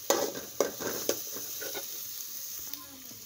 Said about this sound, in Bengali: পেঁয়াজগুলো দিলাম, পেঁয়াজগুলো হালকা করে বেঁধে নেব।